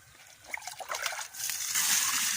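Fish are washed with water, giving soft close trickling and sloshing that builds into a steadier pouring splash toward the end.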